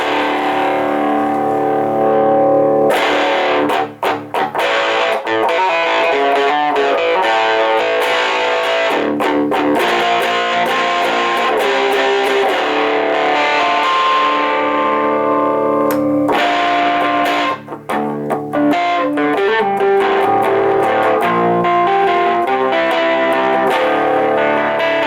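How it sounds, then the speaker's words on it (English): An electric guitar plays chords and riffs through a Behringer Ultra Metal UM300 distortion pedal with the gain at its lowest setting, giving a loud, continuous overdriven tone with brief pauses and no talking. "So that's with the distortion at its lowest point."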